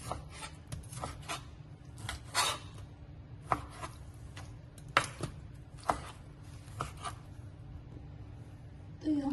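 Knife cutting raw chicken into medium curry-sized pieces on a board, a series of irregular sharp chops and scrapes, close and fairly crisp, with a low steady hum underneath.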